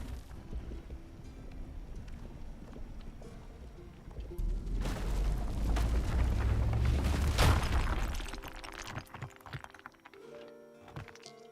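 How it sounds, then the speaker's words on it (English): In RuneScape Dragon Wilds, a rock explosion erupts as a deep boom and crackling burst over a few seconds, rising out of quieter game ambience and then fading into scattered clicks. "Rock explosion."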